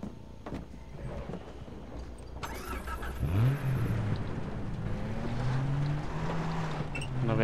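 A vehicle engine starts and revs up in the video game Far Cry 3 Blood Dragon. A rising engine whine climbs and then holds steady under wind and game ambience, fairly loud and with no talk.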